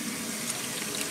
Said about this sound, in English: I just kind of rinse the beans until all of the black residue, until the water runs clean